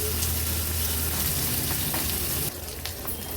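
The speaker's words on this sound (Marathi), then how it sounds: "कढीपत्त्याची पानं घालते फोडणीला आणि कांदा लो फ्लेमवर व्यवस्थित आपल्याला शिजवून घ्यायचा आहे" Onion and curry leaves sizzle in a tempering over a low flame, a steady close frying hiss with light stirring that softens noticeably in the final second.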